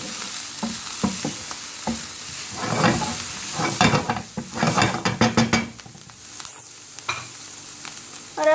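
Egg fried rice being stirred and fried in a pan at home: a spatula scrapes and clatters against the metal in quick bursts over a continuous sizzle, loud and close.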